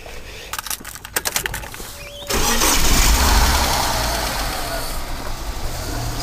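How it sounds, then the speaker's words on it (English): Ford EF Falcon engine cranks over with a few clicks and catches, then settles into a steady, loud idle with a low rumble close by, the car suffering an idle problem where it dies after revving. "So it's running all right at the moment, but as soon as you rev it and let it back to idle, it'll die out."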